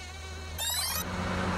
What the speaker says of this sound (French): Devant toi se trouve un toxorhynchite. C'est le plus grand moustique de la planète